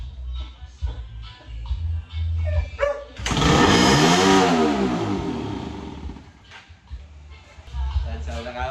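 A broken motorcycle's engine sputters and idles, then roars up loudly in a sustained rev before dropping back to a rough, uneven idle.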